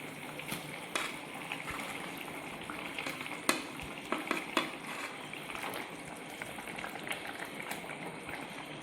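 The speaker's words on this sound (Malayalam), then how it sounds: "പരവ് നല്ലപോലെ തിളച്ചിട്ടുണ്ടേ," Coconut-based fish curry bubbles and simmers quietly in a pan as fish pieces go in, with a soft continuous boil broken by a few small clinks and splashes, no talking.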